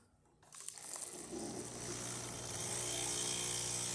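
A Breville BES920XL espresso machine starts dispensing hot water, a pump-driven gushing rush building from near silence and holding steady and fairly loud, with no talk.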